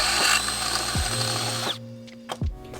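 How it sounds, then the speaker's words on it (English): Power drill boring out pot rivets from a metal hinge: a loud, close whine that winds down and restarts in short bursts, with pitch sweeping as the bit bites and releases. "Once all the pot rivets were drilled out and the hinge was freed"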